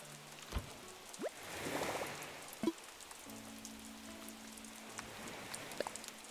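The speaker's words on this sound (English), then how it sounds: "The rain sounds are nice." Gentle rainfall in the video game Animal Crossing: New Horizons, a soft continuous patter of drops on the ground with occasional sharper tapping sounds and faint tones, close and steady with no talking.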